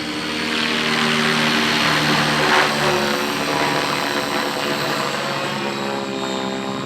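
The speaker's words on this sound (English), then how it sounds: "Everybody's always entertained by how low a inverted helicopter can hover." A radio-controlled helicopter lit with LEDs hovers low while flying inverted in the desert at dusk, its rotor and motor giving a steady, loud, close whine and buzz that holds without a break.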